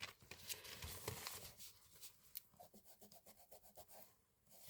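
Homemade alcohol-ink vintage tape being rubbed hard, quiet close rasping strokes that quicken into a rapid rhythmic series of short scrubbing passes.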